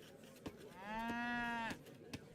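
A single long cow moo from Age of Empires III, rising and holding steady for about a second before cutting off, heard over a quiet game background with faint clicks before and after.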